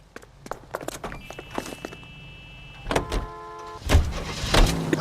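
A car in the L.A. Noire video game starts up and pulls away, with door and mechanical clunks, footsteps and short whirring tones, and the engine rising louder near the end. No one speaks.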